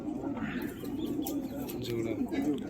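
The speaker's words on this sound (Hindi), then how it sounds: "बिंदु भाई को अपने घर की नस्लों में से 2 कबूतर गिफ्ट कर रहे हैं भाई" Pigeons coo in a low, continuous murmur close by, with background noise throughout the short stretch.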